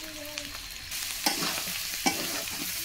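Chicken pieces with salt and turmeric are stir-fried in a pan: a constant close sizzle broken by two sharp spatula scrapes, with no one speaking.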